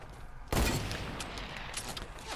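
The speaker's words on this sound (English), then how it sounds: "His teammates are shooting at us." Enemy gunfire in Fortnite opens with a sharp loud burst, followed by a rattling volley of shots that fades into scattered cracks.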